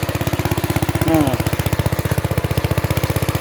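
Mini tractor engine running while tilling soil to prepare a field, a steady rapid chugging pulse close by throughout, with a brief voice partway through.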